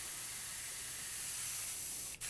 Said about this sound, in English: Make sure I get all the reducer out of the gun.